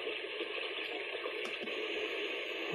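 A brook setting plays from a SHARP projection alarm clock's sleep sounds, a steady hissy stream of running water with faint trickles, heard alone.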